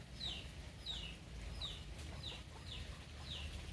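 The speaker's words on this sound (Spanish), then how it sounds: "Mis poquitas gallinas que han quedado, allá las tengo alzadas." Hens on a flood-hit chicken farm in Santa Marta give six short, evenly spaced calls, faint and somewhat distant over a low, steady background rumble.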